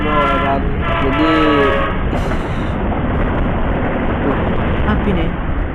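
A train passes close by in a residential area in Indonesia, its loud, steady rumble of wagons filling the scene with a horn blast near the start, while someone talks over it.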